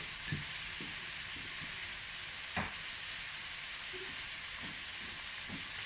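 Onions cook in a pan, giving a faint, steady sizzling hiss with a few soft clinks and taps scattered through it.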